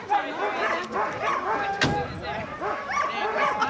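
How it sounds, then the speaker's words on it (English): Sled dogs gathered at a dog sled race bark and yip together in a dense, continuous chorus, some near and some farther off, with a sharp clack partway through. "When you look at these dogs,"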